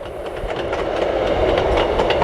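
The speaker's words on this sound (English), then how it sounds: "That's the St Ives to St Earth train and back." A St Ives to St Erth passenger train passes a Cornish golf course, its wheels giving a loud, close rhythmic clickety-clack rumble that swells as it goes by.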